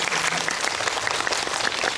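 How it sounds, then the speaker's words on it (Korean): Sustained audience applause in a cinema during a film talk session, even and dense, with no voices over it. "박수 한번"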